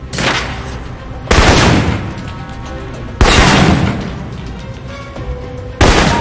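Assault rifle fire in the spy game Alpha Protocol: three loud, separate shots or short bursts spaced a couple of seconds apart, each with a sharp crack and a long ringing echo tail.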